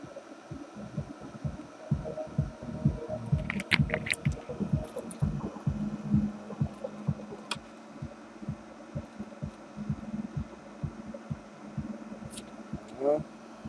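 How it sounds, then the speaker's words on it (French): Cooling fans of a US Blaster USB3460 amplifier on a repair bench hum steadily once powered up, with a rhythmic throbbing pulse and occasional clicks running throughout. "Voilà, on entend les ventilos."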